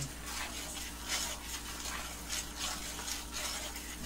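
Spoon stirring a thick no-bake cookie mixture in a pot as it boils, a steady soft scraping and bubbling hiss with rhythmic swishes, close and fairly quiet, no talking.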